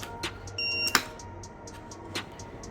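A Raspberry Pi buzzer game's buzzer gives one short, steady electronic beep close by, cut off by a sharp click, with quiet room hiss before and after.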